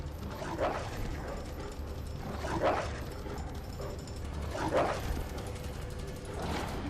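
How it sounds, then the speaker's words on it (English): A dog barks in the Resident Evil 2 remake, with about four spaced barks rising over a steady background game ambience at moderate loudness. "I'm gonna get grabbed by a dog."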